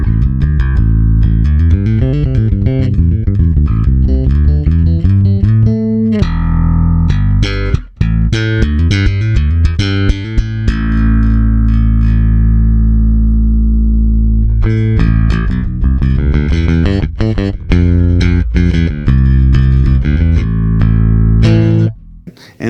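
A G&L bass guitar with its pickups wired in series plays a loud, close run of punchy notes and riffs, pausing briefly twice for sustained tones before the busy line resumes to the end, with no talking.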